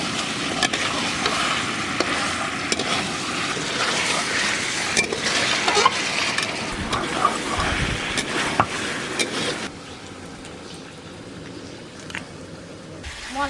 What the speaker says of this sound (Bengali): এবার সব কিছু একসঙ্গে একটু ভালো করে কষে নেব।